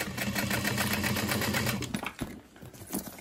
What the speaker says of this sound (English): This is some intense top stitching going on here.